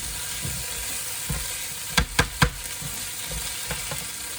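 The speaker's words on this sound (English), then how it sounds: "Stir this in. Get that all mixed up." Tomato puree being stirred into a hot sizzling pan while cooking beef short ribs, with a constant bright frying hiss and a few sharp scraping knocks of the spoon against the pan, close up and with no voices.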